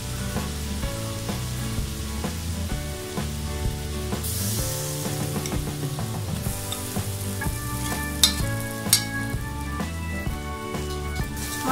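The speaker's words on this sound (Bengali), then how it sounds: "মশলাগুলো হালকা করে একটু নেড়ে ভালোভাবে একটু কষিয়ে নিচ্ছি" Onion, garlic and ginger paste sautéing in a pan for shrimp curry, a soft sizzle with a few clinks of stirring, partly covered by steady background music.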